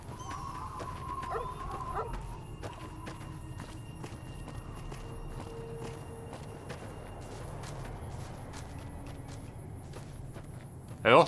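A dog in the video game Fallout New Vegas gives faint, scattered barks and whimpers over a low, steady wasteland ambience, with footsteps moving along underneath.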